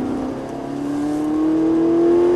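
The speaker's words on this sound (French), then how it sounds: "Allez, on accélère." A Ferrari 458 engine revs upward in a steady climb on a race track, its pitch rising smoothly as the car accelerates, loud and close with no voices.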